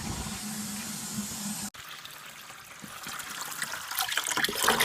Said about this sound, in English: we flushed about a quarter of a bucket of water through the heater core